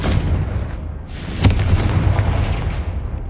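A Confringo fire-blast spell in Hogwarts Legacy on hard mode, a single sharp explosive boom cutting through steady rumbling game noise, followed by crackling decay.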